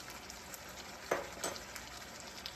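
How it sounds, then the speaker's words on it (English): Herb crusted chicken frying in a pan, a faint steady sizzle with a couple of soft pops and light clicks, quiet and close. "So I'm going to fry this up a little bit, flip it over"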